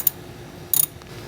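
A 10 mm ratchet loosens a car battery terminal on a 2007 Toyota FJ Cruiser, giving a sharp click followed by a quick, close burst of ratcheting clicks.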